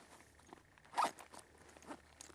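A zipper on a UTG multi-functional tactical messenger bag is pulled once in a quick, close rasp at mid-clip, with faint handling rustle before and after.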